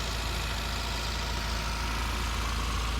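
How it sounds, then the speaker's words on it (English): A 1979 Dodge Colt, an all-original car, idles with a steady, even engine rumble and a broad hiss, close by and unchanging, with no voices. "It's a quiet running little car."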